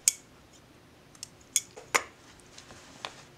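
Scissors snipping thread after darning fabric, a few sharp, light metallic clicks spaced irregularly, close and quiet.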